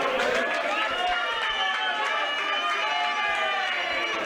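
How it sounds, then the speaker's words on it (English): A crowd at a darts semi-final cheers and applauds as a player walks on, a dense, steady roar filling the whole moment at a fairly distant, even level. "Big round of applause, please."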